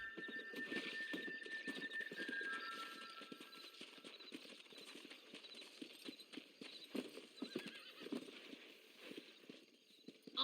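A horse gallops in the Red Dead Redemption video game, its hooves making a fast, continuous drumming clip-clop under ambient game noise, with a faint whinny early on.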